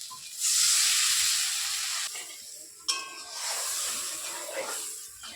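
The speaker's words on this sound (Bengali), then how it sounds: "ঝোলটা খুব ভালোভাবে ফুটে গেছে" Fish curry gravy seasoned with salt, turmeric and slit green chillies boils vigorously in a pan, giving a loud, steady bubbling hiss that swells and fades, alone without talk.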